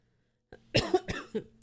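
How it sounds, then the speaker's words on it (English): A few quick, close coughs in a short burst after a moment of silence. "Sorry for coughing in your ears, too."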